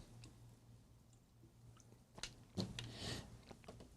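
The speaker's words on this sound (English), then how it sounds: "Beef jerky, maybe not the best thing to, oh my gosh, snack on stream. A lot of chewing." Beef jerky being chewed close to the microphone gives soft, irregular wet bites and squishy chomps, with no talk.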